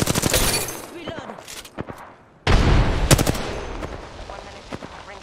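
Bursts of automatic gunfire rattle close and loud in a shooter game, with a short lull before a heavier volley of rapid shots that fades into scattered reports, while someone talks over it.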